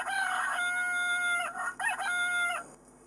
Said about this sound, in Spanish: Y el señor gallo hace un sonido largo.